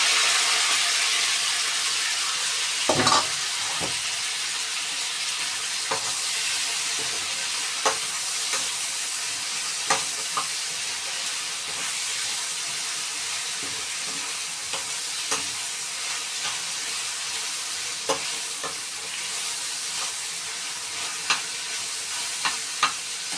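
Carrots and onion fry in a pan with a steady loud sizzle, broken by occasional clinks and scrapes of stirring, close and continuous without talk.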